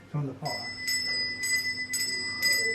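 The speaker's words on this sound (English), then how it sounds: "The old servants' bells," Several bright, ringing tones from old servants' bells in a museum sound one after another at a steady pace, each chiming briefly with a clear metallic ring.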